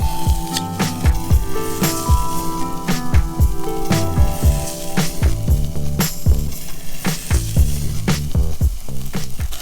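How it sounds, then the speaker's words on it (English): Chuck eye steaks sear loudly on a very hot grill, a steady close sizzle and crackle broken by repeated sharp pops throughout. "We got an awesome sear going on in here"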